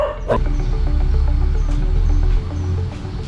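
A dog barks at the Naga shrine cultural site in Vientiane, a short sharp bark early on, then fainter yips over a steady low droning background.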